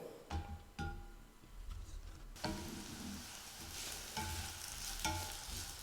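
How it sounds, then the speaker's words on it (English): Tortilla pieces fry in oil in a pan, a steady close sizzle that swells after a spoon stirs them, with a few scraping stirs and clinks against the pan and no talking. "we are gonna fry them in the pan with the oil"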